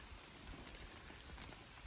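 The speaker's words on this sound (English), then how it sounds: "It is raining." Rain patters steadily on a tent at an Appalachian Trail shelter, a dense, even hiss of drops heard up close with no voices.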